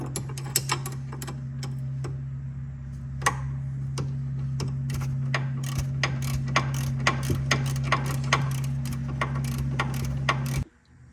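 A nut on the suspension of a 2005–2011 Audi A6 Quattro is tightened with a ratchet, giving rapid repeated clicks over a steady mechanical hum that cuts off abruptly at the end.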